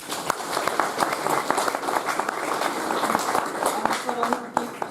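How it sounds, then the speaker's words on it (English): An audience gives sustained applause at the end of a history presentation about HMS Adelaide, a dense, steady clatter of many hands close by, with a voice speaking over it. "I think we can give you a round of applause."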